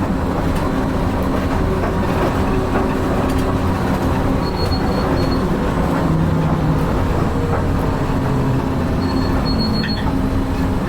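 Steady loud rolling drone of the Disneyland monorail running along its track, heard from inside the cockpit, with continuous motor hum and wheel rumble, occasional faint high whines and ticks throughout.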